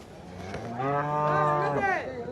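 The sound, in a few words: cattle mooing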